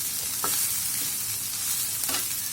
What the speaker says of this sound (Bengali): নেড়ে চেড়ে সুন্দর করে তেলে ভেজে নিলাম